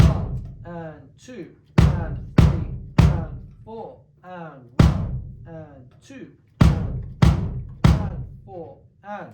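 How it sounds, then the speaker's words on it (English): A bass drum plays a rock beat pattern for a beginner drum lesson: deep, punchy kicks landing in small clusters, loud and close, while a voice counts the eighth-note beats alongside. "Bass drum would sound like this."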